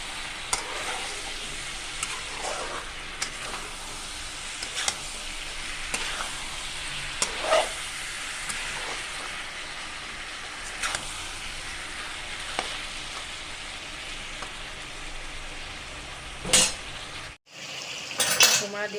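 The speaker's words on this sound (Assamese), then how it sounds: "মাংস ভাজি আছোঁ, হাঁহৰ মাংস।" Duck meat fries in a pan as a steady sizzle sits under repeated clinks and scrapes of a metal spoon stirring against the pan, close and busy, with a brief break near the end.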